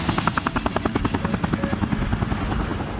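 Westpac Lifesaver rescue helicopter flying over an ocean cliff rescue, its rotor beating in a steady fast rhythm with a constant engine whine, loud and close with no talk.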